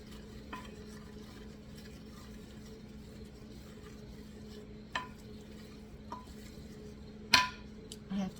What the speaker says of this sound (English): I want you to stir this around.